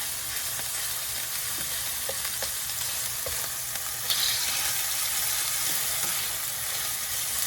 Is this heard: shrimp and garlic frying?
yes